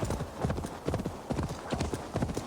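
Horse hooves clip-clop at a steady walking rhythm in Assassin's Creed Valhalla, close and distinct, with a brief whinny-like accent and a faint voice underneath.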